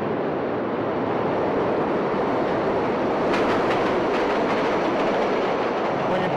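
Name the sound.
train in a rail yard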